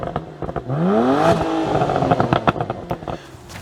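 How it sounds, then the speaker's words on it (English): A stock BMW 335i E90 with its big twin exhaust revs up close, the pitch sweeping upward and then holding before breaking into crackles and clatter as the throttle drops. "this car's staple feature, with it being a 335i, is the big twin exhaust that sounds,"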